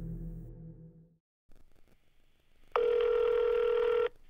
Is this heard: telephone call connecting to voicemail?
yes